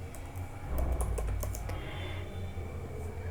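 Typing C++ code on a computer keyboard produces a quick run of light key clicks, close and fairly soft over a faint steady hum, with no voice.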